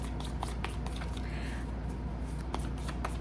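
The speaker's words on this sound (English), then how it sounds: "I'm going to shuffle 2 Animal Spirit Oracles." Soft papery shuffling and riffling of oracle cards, a run of light rustles and taps close by over a steady background hiss.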